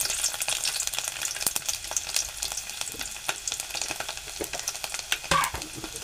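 Five or six garlic cloves dropped into hot oil, frying with a lively crackling sizzle of dense irregular pops and spits, close and steady, no voices.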